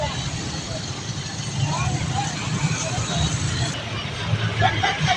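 Heavy road traffic near a cemetery gate in the Philippines, a steady rumble of idling and crawling cars, buses and trucks with babble in the background, while a person talks close by.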